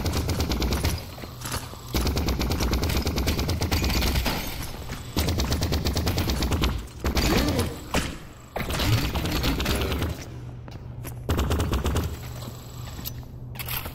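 Rapid SMG or assault rifle bursts fire in the first-person game Vertigo Remastered, loud repeated volleys broken by short pauses, with occasional thuds between bursts.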